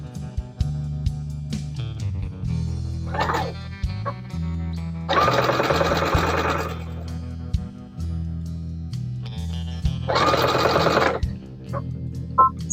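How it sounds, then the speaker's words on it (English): A domestic sewing machine stitches quilt binding in a couple of short bursts, its whirring clearly heard over steady background music with sustained tones. "I'm going to sew all the way down to just past this stitch mark here."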